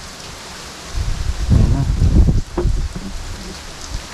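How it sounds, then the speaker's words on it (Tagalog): Heavy rain and strong wind sweep a mountain campsite on Mt. Masaraga in Albay, a steady broad hiss with gusty swells in the middle, as someone speaks briefly over it. "Lakas ng ulan tsaka lakas ng hangin guys."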